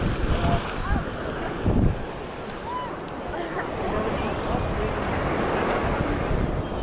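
Sea waves break on a beach in strong wind during a storm, a broad steady roar of surf and wind buffeting the microphone, with heavier crashes early on.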